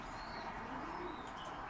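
Domestic racing pigeons recovering from adenovirus after antibiotic treatment coo softly, a faint, low murmuring over quiet background hiss.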